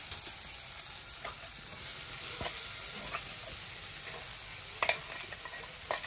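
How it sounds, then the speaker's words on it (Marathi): Ground pea paste stirred into a tomato mixture frying in a pan for a Marathi pea chutney: a steady soft sizzle, with quiet scraping spoon strokes and a few clicks. "जे आपण वाटाण्याचं करून घेतले ते सगळं वाटण ह्यात घालून घेणार आहे."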